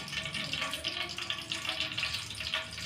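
Cinnamon, cardamom, star anise, cloves, kalpasi and bay leaf sizzle in hot oil and ghee for biryani, giving a close, continuous crackling hiss with no voice.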